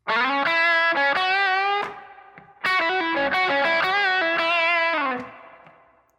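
A distorted electric guitar plays a bluesy lick: a quick run of bent, sustained notes, a brief pause, then a second phrase that rings out and fades.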